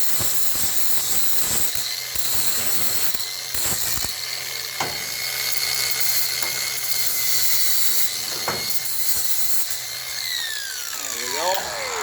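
A power tool grinds and brushes the surface of an old jack ahead of welding, a loud continuous hissing whir with brief stops and starts, close up and with no talking.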